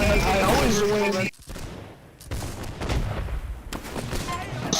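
Gunfire and explosions from the Holdfast video game, with dense bursts of shots and booms early on, a brief lull, then more battle noise returning under people talking.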